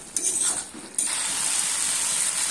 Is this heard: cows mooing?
no